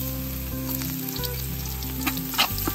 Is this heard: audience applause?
no